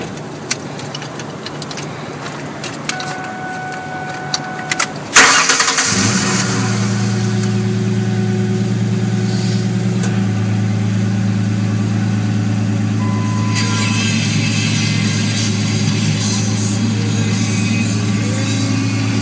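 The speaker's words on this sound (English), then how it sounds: "Fire it up. You got to hear it." A 2013 Ford truck engine cranks and catches after about five seconds of quiet, then settles into a steady, loud, close low idle with a deep rumble that continues to the end.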